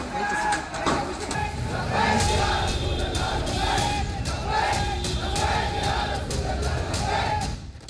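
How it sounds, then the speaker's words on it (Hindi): A protest crowd chants religious slogans in Nagpur before rioting, a dense, loud roar of many voices with rhythmic swells of chanting throughout. "भीड़ लब्बैक के नारे लगा रही थी"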